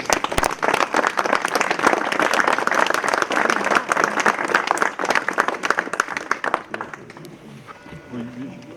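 An audience at the inauguration of a town square breaks into sustained, dense applause for several seconds, then tapers off as voices resume.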